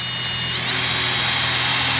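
A power drill runs steadily, drilling holes for wire passthroughs in a Jeep roof, a continuous whirring buzz held at an even, close, loud level throughout.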